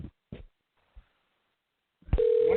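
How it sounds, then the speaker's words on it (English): An outgoing phone call rings on the line, with a sustained steady tone starting near the end after a few faint clicks and thumps, fairly loud and alone without talk. "Okay, it's ringing."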